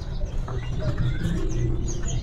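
Masran birds at a busy bird market give faint, scattered chirps and tweets over a dense, constant crowd murmur and low background rumble.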